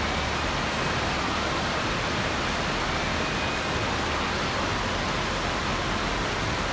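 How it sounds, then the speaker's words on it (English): Waterfall beside the Mt Whitney trail, a steady, dense rushing roar of falling water that stays even and unbroken throughout, with no voices. "We found a waterfall."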